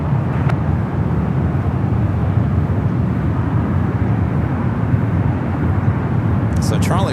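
A Korean Air airliner taxis toward runway 28 at San Francisco airport, producing a loud, continuous low jet rumble that holds steady throughout.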